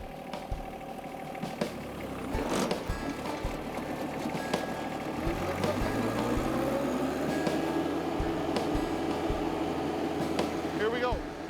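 A John Deere 1025R compact tractor runs in low gear with four-wheel drive engaged, its engine a steady, close drone with some mechanical clatter and rattles throughout.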